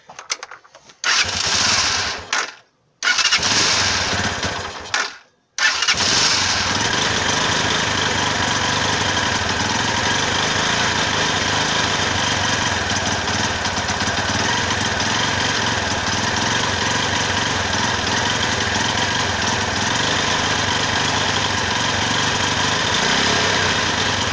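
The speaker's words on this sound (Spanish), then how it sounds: "Ya trabajó nuestro motor con la bujía muy mal calibrada" A small motorcycle engine with a badly gapped spark plug sputters and cuts out twice, then catches and runs steadily, idling rough and buzzy for a long stretch.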